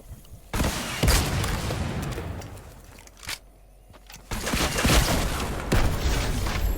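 Fortnite gunfire in a video game: several sharp bursts of shots and booms spaced irregularly, a loud volley near the start, a quieter lull in the middle, then dense rapid shooting toward the end, with no talking over it.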